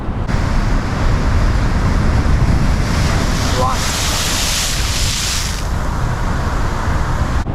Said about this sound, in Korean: 파도 구경하다가 파도를 와장창 맞아버렸습니다